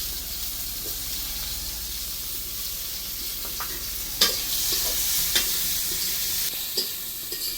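Onion pieces fry in a pan of oil with cumin and bay leaf while a spatula stirs them, starting a home-style desi chicken curry. A steady close sizzle runs throughout, with a few sharp scrapes and clinks from the spatula.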